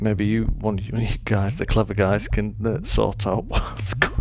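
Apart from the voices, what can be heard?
No everyday noise stands out behind the speech.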